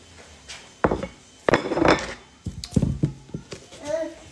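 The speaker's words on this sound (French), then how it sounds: "je découpe les oignons" Sharp knife strikes on a wooden board while onions are sliced at home, arriving in irregular loud thumps with bursts of clatter, mixed with a voice and other talk in between.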